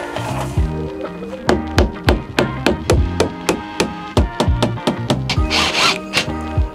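Wood glue and nails fix 2.5-inch wood framing pieces to vertical beams for a bed cubby inside a Promaster van, giving a close, loud series of sharp, rapid knocking strikes in uneven bursts, with a brief spoken word at the start.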